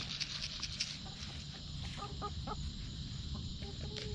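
Several chickens being put into a coop cluck and murmur close by in a steady, busy chorus over a low background rumble.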